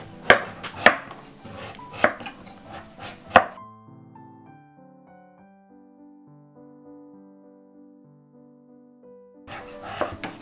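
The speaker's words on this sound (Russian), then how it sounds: "На крупной терке натираем тыкву." Raw pumpkin scraped down a coarse grater in short, crisp rasping strokes, a quick cluster at the start and a few more near the end, with quiet tonal music filling the pause between.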